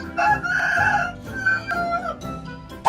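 A chicken kept beside a monkey clucks and crows in short bursts, fairly close and moderately loud, with brief squawky calls and a sharp final note.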